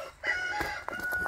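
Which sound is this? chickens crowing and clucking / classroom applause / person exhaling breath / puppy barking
chickens crowing and clucking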